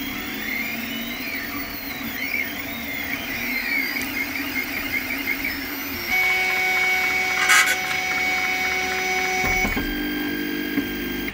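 A Tevo Little Monster 3D printer runs close by, its stepper motors whirring and whining in shifting tones as the head moves, with a louder change in pitch and a brief squeak partway through. No one speaks.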